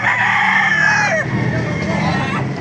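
Roosters crow loudly and close at a busy chicken market in Baliuag, Bulacan. One long crow rises and falls, then another overlaps it, with clucking and market chatter underneath.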